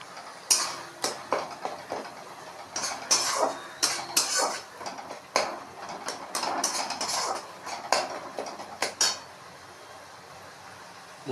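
Masala stir-fried in a pan, with a spoon clinking and scraping against the metal in quick irregular bursts, close and moderately quiet, with no talking.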